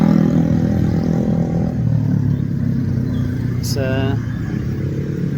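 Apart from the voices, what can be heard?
rush hour street traffic in Indonesia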